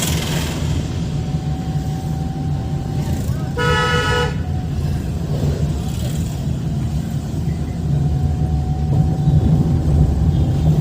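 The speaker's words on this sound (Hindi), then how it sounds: "चलिए इनको हॉर्न दे करके धीरे से निकालना" A single short car horn toot sounds near the middle over a constant engine rumble and road noise, with a voice speaking.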